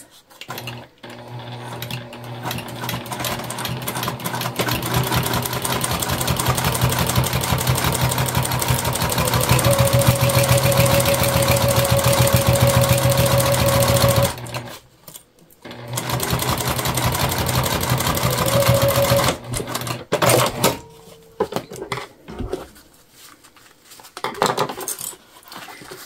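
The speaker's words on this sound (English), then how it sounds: "All right, and we're going to sew." Sewing machine stitching a Dayna Pack backpack, a steady continuous motor whir running for about fourteen seconds, then resuming in shorter bursts with pauses between, fairly loud and close with no talking.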